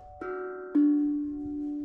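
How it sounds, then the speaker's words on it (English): Two-note ding-dong doorbell chime struck on a steel tongue drum, a higher tone then a lower one, each ringing on with a clear sustained decay, close and alone. "Steel tongue drum."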